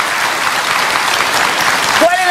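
An audience bursts into applause, a dense, even wash of clapping lasting a couple of seconds, with a voice briefly speaking at the end.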